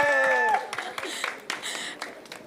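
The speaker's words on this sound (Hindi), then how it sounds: "पहले हम ताली बजा देते हैं तुम्हारे लिए." Guests are welcomed with a round of clapping that follows a short musical tone. The applause is a busy, moderately loud patter of many hands lasting about two seconds.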